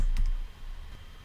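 Keys clatter on a computer keyboard as a terminal command is typed, a few quick close clicks under a low steady hum, with no talking.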